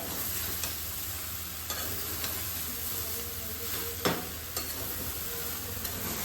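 Steamed dhokla tempered with oil in a kadhai gives a steady close sizzle and hiss, broken by a few scraping stirs, one sharper clatter near the middle, with no talking.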